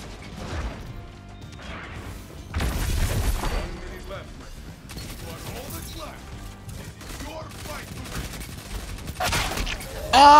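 A submachine gun fires in a video game in rapid bursts among other crashing and mechanical game effects, loud and close, with a voice talking over parts of the action.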